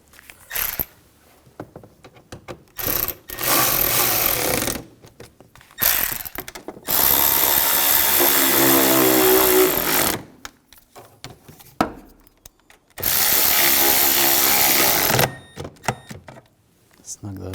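A power tool drives down the valve cover screws on a 2007-2013 BMW X5 3.0L inline-six. Repeated loud whirring bursts lasting one to four seconds alternate with quieter gaps and small handling noises.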